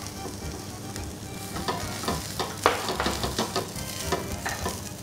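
Grated coconut sizzles in a pan while a utensil stirs and scrapes, producing irregular clattering over a soft frying hiss.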